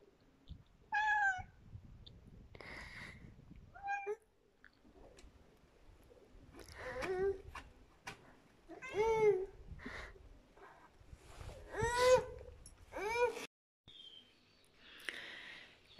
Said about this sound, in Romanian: Un pisic, doi pisici, trei pisici